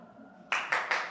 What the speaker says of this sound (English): You don't have to clap twice.